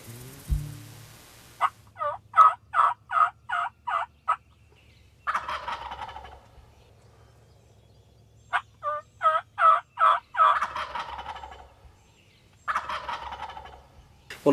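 A wild turkey gobbles outdoors in several loud, rapid rattling bursts that come in repeated series separated by quiet pauses, with no talking.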